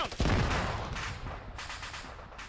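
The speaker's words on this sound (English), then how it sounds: "Connell, that wasn't you who just lit us up, were you?" Machine gun fire in the ARMA military shooter game, a loud close burst that hits sharply and then trails off with echoing rattles.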